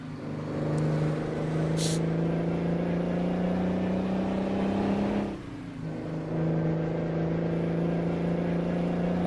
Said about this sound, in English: When that engine fires up.